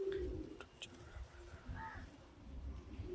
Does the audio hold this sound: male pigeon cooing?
yes